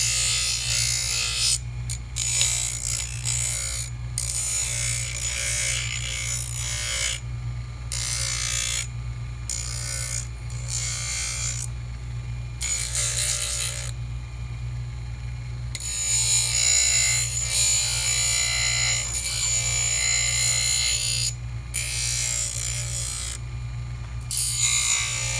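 Coarse rotary grinding wheel on a handpiece trimming soft denture reline acrylic, a steady high motor whine with repeated short breaks as the wheel lifts off and touches the material again, with no speech.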